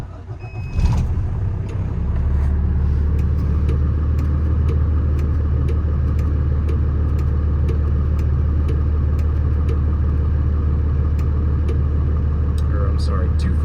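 Diesel rumble of a 2014 Freightliner M2 crane truck with a Cummins ISC engine and air ride, pulling off after a brief knock and settling into a steady, close, loud low drone that holds throughout.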